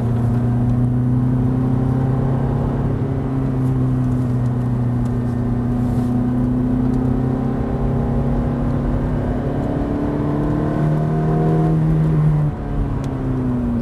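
A Ferrari F430 engine holds a steady, loud drone from inside the car and climbs gradually in pitch as it accelerates on track, with no voices over it.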